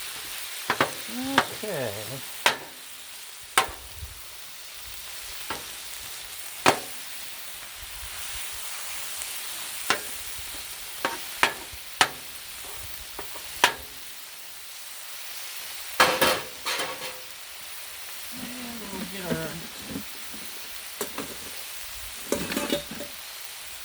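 Chili sizzling on a hot griddle while a metal spatula scrapes and clanks through it in irregular strokes, close and fairly loud over a constant hiss; a voice speaks once briefly.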